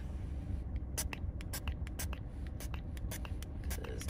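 Short, hissing bursts of an aerosol spray can, repeated in quick irregular puffs over a low background rumble.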